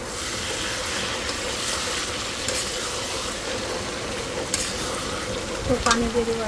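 Koi fish fries in a pan and sizzles steadily, with a few scrapes and clinks of stirring near the end.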